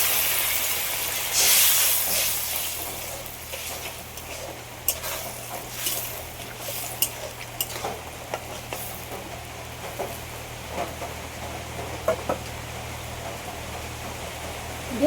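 Water poured into a hot pan of sauce mixture for a spicy lote fish and brinjal curry hisses in a sudden loud burst, then settles into a steady sizzling crackle with scattered pops.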